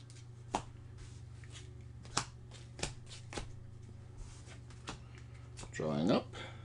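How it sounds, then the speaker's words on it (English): Cards being handled and shuffled during a tabletop game of Eminent Domain, quiet close sharp snaps and riffles scattered every second or so, ending in a brief burst, over a steady low hum. "I'm going to take a shuffle."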